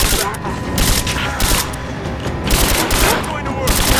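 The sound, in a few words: gunfire in video game Rise of the Tomb Raider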